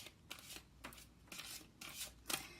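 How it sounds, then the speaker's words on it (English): Tarot cards being shuffled by hand, a handful of quick riffling bursts in a steady rhythm, close and fairly quiet with no talking. "If you don't like watching me shuffle"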